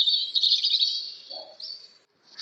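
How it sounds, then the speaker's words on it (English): River birds chirp in rapid, high-pitched bursts, with a steady run of calls that briefly drops out before resuming, close and clear with no talking. "The river is a home for many species of birds."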